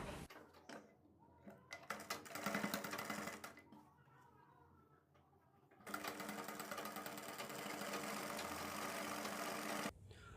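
A sewing machine stitches a strip onto a kurti neck, a close, loud, steady whirring run broken by a pause and faint handling sounds, then a second long continuous burst before stopping.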